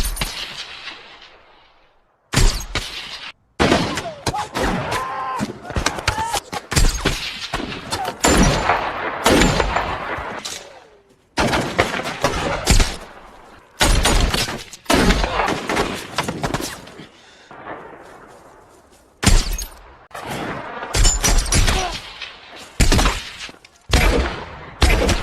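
Gunfire erupts in a wartime battle scene from the film Lone Survivor, with repeated loud sharp shots and bursts scattered across the scene between brief quiet gaps, mixed with a narrator's voice and dialogue.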